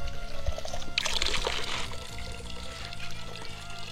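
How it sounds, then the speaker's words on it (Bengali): Water pours into a bottle at a village below a hill, gurgling and trickling in a steady close stream with a few knocks and handling noises. "সজলও কিন্তু এখান থেকে জলটা ভরে নিচ্ছে"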